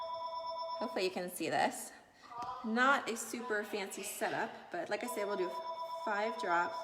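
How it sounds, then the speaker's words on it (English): A phone rings with a steady electronic tone through most of the moment while a person keeps talking over it. "Oh, sorry, that's my phone."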